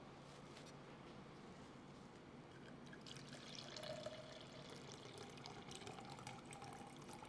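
Lukewarm water pours steadily into a measure with a soft trickling splash, rising slightly as the flow continues, close and quiet with no talking.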